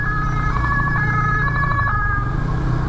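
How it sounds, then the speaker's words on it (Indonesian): Ambulance siren passing on a road near Yogyakarta, a loud wailing tone sweeping over steady traffic noise and the hum of a moving vehicle, with no talk. "Oh, ada ambulan."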